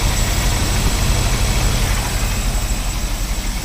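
A 1964 Lincoln Continental V8 fitted with an Edelbrock 1406 carburetor idles low and steady, a close, continuous rumble with a broadband hiss and no talking.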